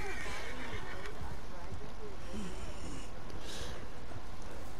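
A horse in Red Dead Redemption 2 whinnies and snorts amid hoofbeats and game noise, with people talking over it throughout.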